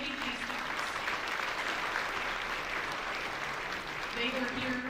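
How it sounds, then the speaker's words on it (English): An assembly audience at Angelo State University applauding, a sustained even wash of many hands clapping throughout, moderately distant, with faint voices mixed in. "Could we get a round of applause for the first time we have RAM TV here today that's capturing this day for us?"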